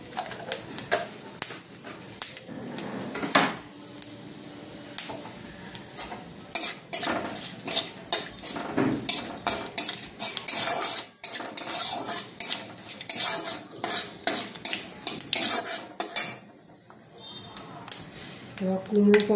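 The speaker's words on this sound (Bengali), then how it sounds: "সামান্য একটু পাঁচফোড়ন দিলাম" Panch phoron spices fry in a pan while a utensil scrapes and clinks against the metal in quick, irregular strokes, with a soft sizzle underneath, close and moderately loud.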